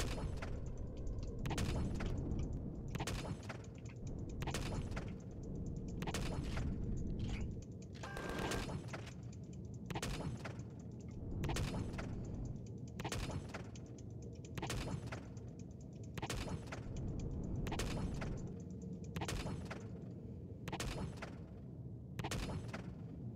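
Weapon fire in the video game Empyrion Galactic Survival, about fifteen sharp, loud shots spaced at a fairly regular slow pace, each with a short ringing tail, over a low mechanical hum.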